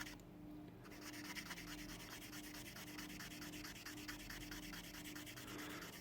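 Varnish being sanded off the body of a 1/24 Revell Porsche Carrera Cabrio scale model: quiet, rhythmic back-and-forth rubbing strokes, fine and gritty, close up and steady with no talking.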